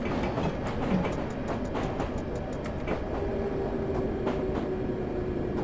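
London Underground D78 stock train running in Train Simulator 2018, a steady rumble with rhythmic clickety-clack of wheels over rail joints and a rising motor whine, close and continuous.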